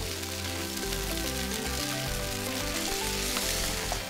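Pad thai being stirred in a frying pan gives a steady, soft sizzle under continuous background music.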